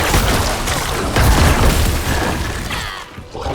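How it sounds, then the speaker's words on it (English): Necromancer corpse explosions burst in quick succession in Diablo IV, a dense run of heavy booms and crackling pops filling the mix with no voice over them. "I'm glad the corpse explosions don't hurt you."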